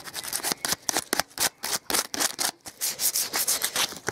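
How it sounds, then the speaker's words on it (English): Sandpaper rubbing back gloss paint on wrought iron, a run of short, close scraping strokes in an uneven rhythm with brief gaps between them, no voices. "So that's sanding all the gloss back."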